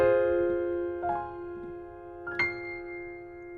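Piano chords rolled upward like a harp with the sustain pedal held, two soft arpeggiated sweeps blooming over a long ringing wash of notes, gentle and close.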